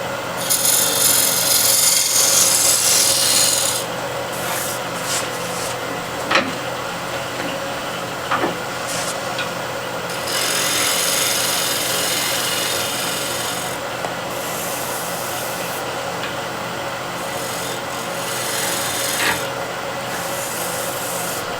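Steady wood-turning scrape on a lathe, a standard scraper finessing a step in the spinning wood, running as a continuous rasping hiss with a few brief sharp ticks and louder passages, no voices.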